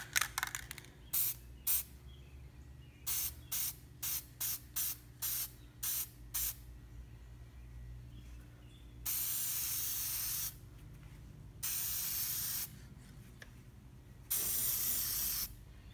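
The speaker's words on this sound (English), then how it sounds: "just spray over the area just a little bit." Short bursts of an aerosol can spraying over plastic, a quick series of brief puffs followed by several longer sustained hisses, close by with pauses between.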